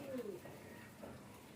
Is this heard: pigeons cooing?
yes